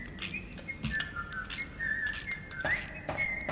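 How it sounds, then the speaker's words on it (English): Whistled melody from a character in a Halloween-themed video game, a clear tune of repeated short notes over steady game ambience, with no talking. "Is this guy whistling?"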